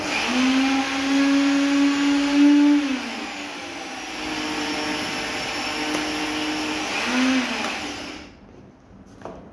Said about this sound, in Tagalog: kailangan lang natin siya haluin para pulverize talaga siya.